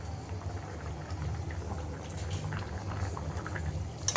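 Curry broth with bottle gourd boils in a pot, giving off a steady, dense bubbling and seething hiss that holds at an even level throughout, close up.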